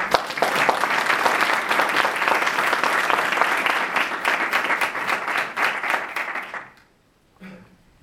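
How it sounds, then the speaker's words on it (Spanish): An audience at an evening talk applauds a speaker being introduced, with dense, loud, sustained clapping for nearly seven seconds that then cuts off into near silence, followed by a brief faint noise. "le pido un aplauso, por favor"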